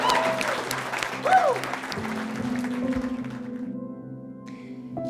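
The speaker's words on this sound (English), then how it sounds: "Can we get a round of applause for Kate as well?" Wedding guests applaud for the bride Kate at a wine estate reception, with clapping that fades out over the first seconds beneath sustained music and a voice.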